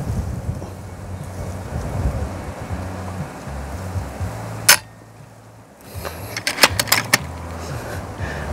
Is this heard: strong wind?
yes